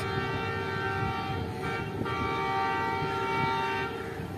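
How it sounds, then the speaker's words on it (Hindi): Tezgam Express passenger train from Karachi to Rawalpindi rolling past a small halt behind a ZCU30 diesel locomotive, a steady loud rumble of wheels with sustained horn tones held throughout. "और लोकोमोटिव के विसल से तो आप लोग समझ ही गए होंगे कि ZCU30 लगा हुआ है।"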